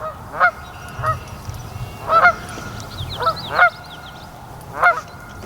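Canada geese honk repeatedly at uneven intervals, loud and fairly close, with nasal two-part calls over faint outdoor background noise by a lake.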